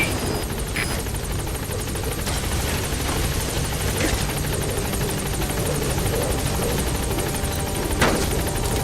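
Helicopter arriving at a landing zone in Metal Gear Solid V, a loud continuous rotor thrum and engine whine throughout, with faint game clicks and beeps layered on top.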